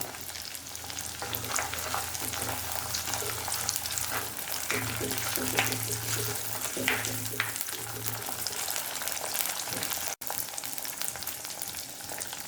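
Garlic frying in hot oil for a Kerala bitter gourd pickle, a steady close sizzle running throughout with faint stirring scrapes and a brief dropout near the end; no one speaks.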